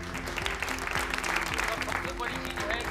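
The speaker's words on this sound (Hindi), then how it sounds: "सो एक बार जोरदार तालियां होनी चाहिए फॉर प्रेम जी।" At a prize distribution ceremony, an audience claps in a dense, continuous patter, with voices and some tonal sound mixed in with it.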